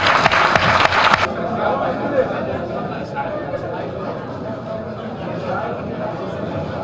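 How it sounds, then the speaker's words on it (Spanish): A crowd at a memorial tribute claps in a brief burst of applause that cuts off abruptly, followed by low room chatter and background murmur. "Un aplauso para todos ustedes."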